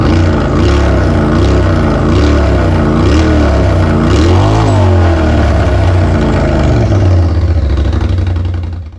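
A Polaris RZR turbo engine revs hard through a free-flowing exhaust, loud and close, its pitch rising and falling in repeated bursts before one big rev that trails off at the end.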